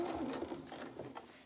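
A sewing machine stitches forward along the seam of a small reversible winter cape, a short, fairly quiet steady run.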